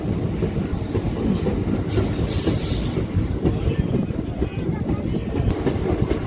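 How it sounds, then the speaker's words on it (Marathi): The Koyna Express pulls away from Bhilwadi station with a continuous rolling rumble and rhythmic clickety-clack of wheels on rails, plus faint high squeals. "भिलवडी रेल्वे स्टेशनवरून मित्रांनो आपली ट्रेन निघालेली आहे."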